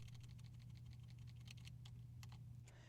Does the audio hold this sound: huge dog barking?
no